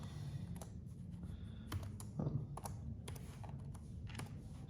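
Someone types an equation on a computer keyboard, a steady run of close key clicks in irregular bursts over a low background hum.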